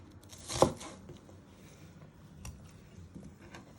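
A kitchen knife finely slicing food on a chopping board while making spaghetti bolognese, with one clear cut near the start followed by a few quieter, scattered taps of the blade.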